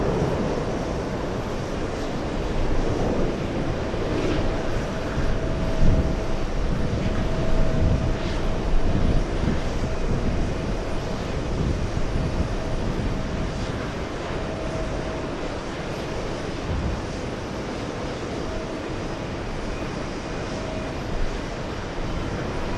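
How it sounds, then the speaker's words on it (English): A Delta Boeing 767 airliner at JFK airport, heard as a steady, broad roar of jet engines that holds for the whole stretch, with outdoor background noise and no talking. "Delta 28, Big 767 flying to Nice"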